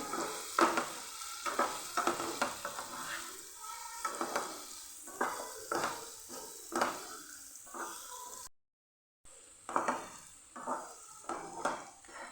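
A raw mango dish, Gujarati kachi keri vaghariyu, being stirred in a pan after salt is added, with repeated scraping and clinking strokes over a low sizzle, close and steady, briefly cut out near the end.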